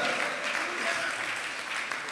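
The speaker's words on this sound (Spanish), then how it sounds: "Dele palmas al Rey con todo su corazón." Church congregation clapping during a sermon, a dense steady wash of many hands applauding throughout, with faint voices mixed in.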